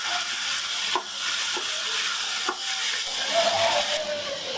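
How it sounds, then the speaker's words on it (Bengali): Chickpeas and onion sizzle in a pan, a steady frying hiss broken by a few scraping stirs of a spoon. "এইভাবেই ছোলাও ভাজা ভাজা হয়ে যায়, পেঁয়াজও বেরেস্তার মতো হয়ে যায়।"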